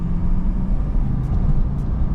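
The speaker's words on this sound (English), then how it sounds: "Ah, that induction noise." A stock car engine, the replacement for a Mercedes C63, drones with low, steady induction noise from inside the cabin, a continuous rumble with no talking.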